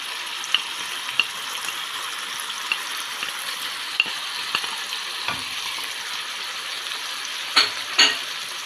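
Liver fries in a pan with garlic, peppers and chili, giving a steady bright sizzle broken by small ticks and a few louder clacks of a utensil near the end.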